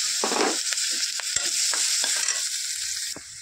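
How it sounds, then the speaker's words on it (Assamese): Sliced onion sizzles in leftover frying oil with a steady bright hiss, broken by scattered scraping stirs of a utensil against the pan. "মাছটো উঠাই ল'লোঁ আৰু এয়া ৰৈ যোৱা তেলখিনিতে মই পিঁয়াজটো দিলোঁ।"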